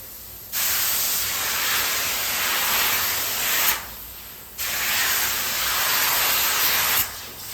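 A spray gun applies a drop coat of metallic yacht paint in long, steady hissing bursts, three passes separated by brief pauses, loud and close with a constant high whine in the background.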